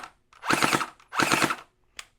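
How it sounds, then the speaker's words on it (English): A Starfire XL gel blaster fires two quick three-shot bursts in burst mode, each a tight run of sharp rattling pops, followed by one short single snap, loud and close with no talking. "So I'm putting 3-shot burst"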